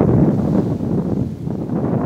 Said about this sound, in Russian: Ветер очень большой, видите.